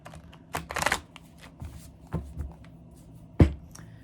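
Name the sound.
shuffling tarot cards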